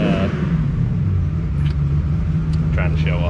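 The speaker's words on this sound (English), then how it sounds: "Dad's starting his car" Engine of a turbocharged LS-swapped Cutlass running loudly with a steady low rumble close by, people talking over it.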